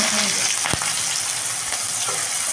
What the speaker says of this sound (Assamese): তেল গৰম হ'ল ইয়াতে মই তেজপাত দি দিছো এতিয়া কাটি ৰখা পিয়াজটো দি দিছো